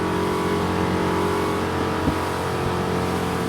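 A Sea Ray SDX 250 motorboat's engine drones steadily at top speed on open water, a loud, constant roar with a brief thump partway through and no talking.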